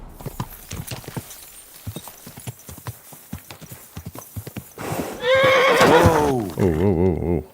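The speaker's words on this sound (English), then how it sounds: "Oh, horsey." Hooves clip-clop at a walk in Kingdom Come Deliverance 2 as a voice talks over them, then a horse lets out a loud, close whinny with a falling, quavering tail and a second shorter neigh.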